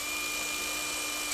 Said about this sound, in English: drill the bottom of this hole